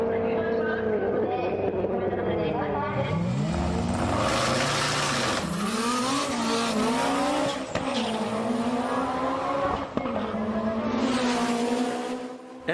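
HKS Kansai drag car making a full-power run at a Japanese drag strip: loud, close engine roar rising in pitch through repeated gear changes, with tire noise, continuous for the whole stretch.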